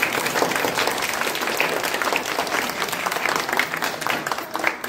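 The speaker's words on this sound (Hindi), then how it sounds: "नहीं ताली तो बजाइए एक बार, जरूर बजाइए" An audience in a hall claps in sustained, dense applause that stays loud throughout.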